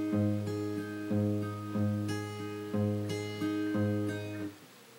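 A solo acoustic guitar plays a song in close, ringing strummed chords at an even pace, about one every 0.7 seconds, before the sound drops away at the end.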